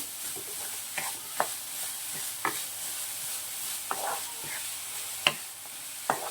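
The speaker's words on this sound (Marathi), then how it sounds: "खोबरं गुळामध्ये छान शिजवून घ्यायचे आपल्याला गॅस मी पूर्ण लो केलेला आहे" Grated coconut cooks with jaggery in a pan on low heat, giving a soft sizzle under occasional scraping stirs of a spoon, close and moderate in level.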